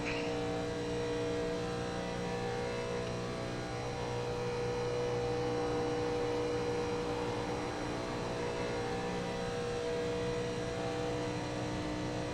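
A NASCAR car on a hot lap at Talladega gives a constant, droning engine note with a strong, steady hum, heard from inside the car with no talking.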